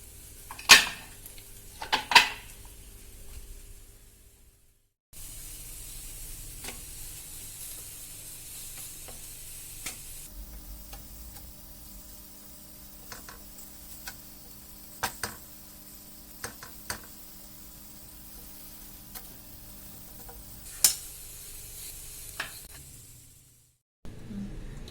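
Orotti, a flatbread, cooks in a pan beside a beef roast, giving a steady soft sizzle with scattered sharp clicks and taps from handling, plus a few louder knocks near the start and a brief quiet break.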